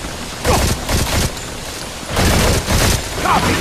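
Dense bursts of automatic gunfire in the Modern Combat 4 shooter, loud and close, in two sustained volleys separated by a brief lull.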